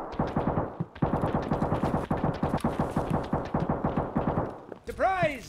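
Automatic gunfire in Escape from Tarkov: a long, rapid string of close, sharp shots in steady bursts, broken by a short pause, then a different chirping effect at the very end.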